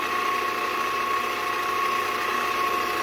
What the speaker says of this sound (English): I'm loving my Farberware mixer.